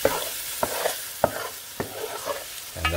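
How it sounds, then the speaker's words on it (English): Masala frying in a pan for a south Indian crab curry, a low steady sizzle punctuated by several sharp spoon scrapes and clinks against the pan as it is stirred, close and without talk. "Just going to give that a bit of a stir."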